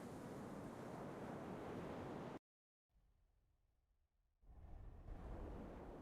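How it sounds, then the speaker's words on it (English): Wind ambience from a Halo 3 Forge mod, a steady broadband rush like surf or blowing air, cuts out to silence, returns faintly, then swells back loud and close. "Okay, so I hear wind."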